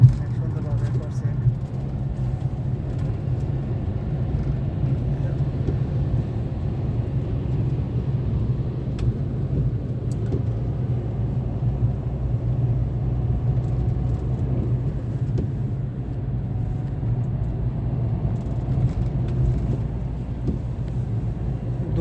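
A car driving along a road in Italy, heard as a steady low engine and tyre rumble from inside the vehicle that continues without a break for the whole stretch.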